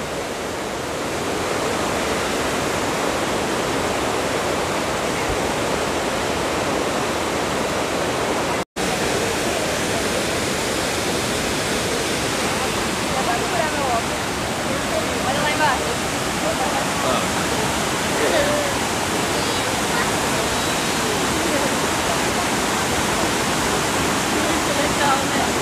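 Iguazu waterfalls in Brazil roar as a heavy mass of rushing water, a steady broadband wash that continues unbroken and close throughout, with no voices audible.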